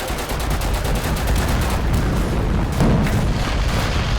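A 7.62 machine gun firing in the Total Conflict: Resistance video game, with loud, sustained rapid bursts and heavy booming reports running the whole time without a break.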